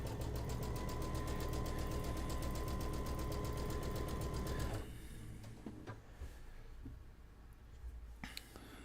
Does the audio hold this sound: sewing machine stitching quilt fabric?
yes